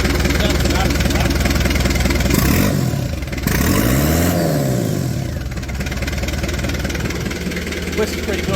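1994 Daihatsu Rocky with a swapped engine revving through a new 2.5-inch stainless straight-through exhaust, loud raspy idle broken by a couple of sharp rev blips that rise and fall, then settling back to a rough burble.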